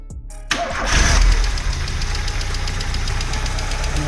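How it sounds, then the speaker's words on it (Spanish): A VW Polo 1.3 petrol engine cranks and catches on its first start after a timing belt replacement, then settles into a steady, even idle up close. "Vamos a darle a arrancar, cómo se porta."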